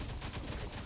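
Gunfire in a video game, packed into under a second as a dense, loud burst of rapid overlapping shots with a rough, noisy texture.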